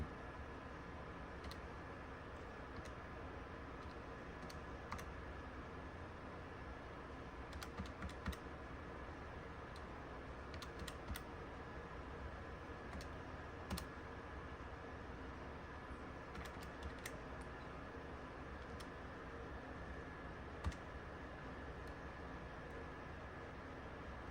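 Buttons on a Casio fx-570EX scientific calculator are pressed in a faint, irregular series of small clicks over a soft steady hiss, with no talking.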